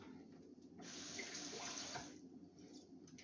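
A kitchen tap runs water to wash something off while preparing roast chicken with sausage and bacon, a steady stream rising for about a second and a half and then cutting back to quiet.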